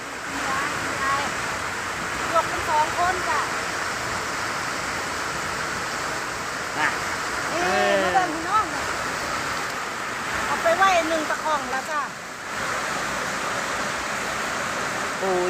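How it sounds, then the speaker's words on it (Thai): Loud, continuous rushing water from a stream beside a lift-net fishing spot, a dense roar that never lets up, with voices talking faintly beneath it in places. "แต่ขออภัยในความเสียงดังนะจ๊ะน้ำมันดัง"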